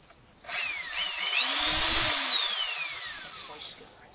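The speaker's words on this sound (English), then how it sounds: "going to go and drill these now" Power drill boring bolt holes for a polytunnel, a single loud whine rising in pitch as the motor spins up and then slowly falling away, close by.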